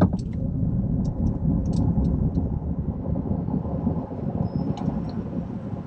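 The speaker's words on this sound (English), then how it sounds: "So let's see what this thing will do 0 to 60." Ford F-150 Lightning electric pickup with extended range battery accelerating hard from 0 to 60, a steady low broadband rumble of road and wind noise swelling throughout, with faint high whine and light clicks on top.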